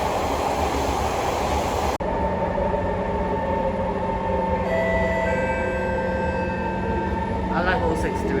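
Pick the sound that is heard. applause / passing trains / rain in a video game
passing trains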